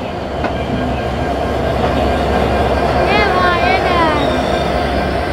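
A passenger train crosses the Jamuna river, a steady loud rumble of wheels and carriages with thin metallic squeals rising midway, voices faint in the background.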